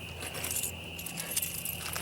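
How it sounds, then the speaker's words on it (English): Car keys jingle as they are dropped into a Kelty Trekker 65 external frame backpack, a brief close metallic jangle with light clinks over a steady hum. "And I just put my car keys in there."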